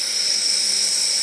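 Handheld fiber laser welder, an X1 Pro, cutting through metal: a steady, high-pitched hissing whine held at one level for the whole short stretch, close and loud, with no voices.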